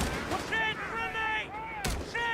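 A sharp grenade blast hits a machine gun team in a Company of Heroes 3 pro league match, one loud explosion near the end cutting through steady battle noise while commentators talk.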